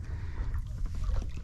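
A small boat out on a lake, with low rumbling water and wind noise close to the microphone that carries steadily through the whole moment.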